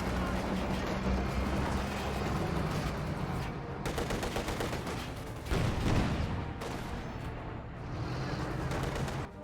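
Anti-tank gun and other weapons firing in a Company of Heroes 2 battle, a dense continuous barrage of booming shots and crackling gunfire with several louder blasts, no voices.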